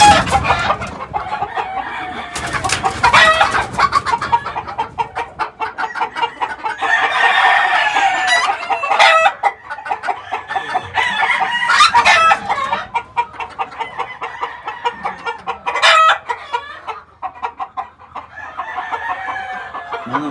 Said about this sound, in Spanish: Estos son 5 gallinas Rubo Grace con un gallo chocolate.